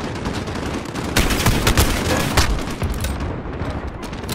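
Gunfire in the video game Call of Duty Modern Warfare: dense, loud bursts of rapid shots and booms pile up continuously over several seconds, close and harsh, with no break.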